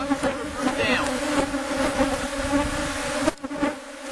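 Honey bees buzz in a thick, steady drone around an open hive during a colony inspection, close and constant, with a brief dip in the hum near the end.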